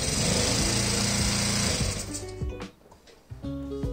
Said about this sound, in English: testing it on my 30cc Laser 180 four-stroke nitro engine